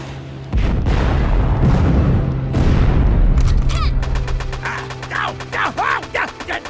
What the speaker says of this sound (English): Hence the missiles! Fire!